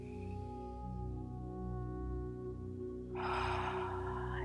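A long, steady inhale comes first, then a louder, breathy rush near the end during a yoga stretch, heard over a sustained low musical drone.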